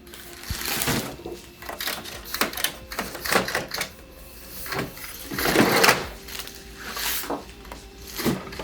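Mechanical whirring and clacking of a printer or cutting machine working on thick cardstock thank-you tags, in uneven bursts of motor sweeps and clicks, close and fairly loud.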